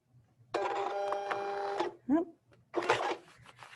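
A vinyl cutting machine pulls in a sheet of craft vinyl as it loads, giving a steady mechanical whir for over a second, followed by a short rising whine and another burst of motor noise, fairly close and with no voices.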